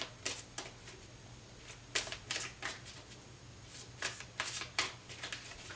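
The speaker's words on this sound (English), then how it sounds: "Hold on, one more shuffle." Tarot cards are shuffled close up in quick riffling bursts, several short flurries of papery snaps over a quiet background with no talk.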